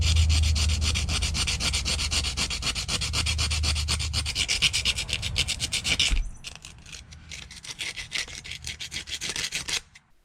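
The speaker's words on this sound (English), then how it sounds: "Now we'll do the other half with our sandpaper." Sandpaper is rubbed by hand over a rusty front brake part on a 2002 Ford Taurus, making close, steady, rapid scratchy strokes. It eases briefly partway through, then resumes before stopping.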